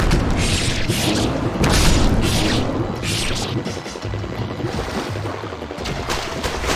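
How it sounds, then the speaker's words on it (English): Exploding bomb fish in the Ninja Gaiden Sigma video game set off loud, rolling booms in repeated bursts, blended with a continuous wash of water and game effects. "Those are exploding bomb fish."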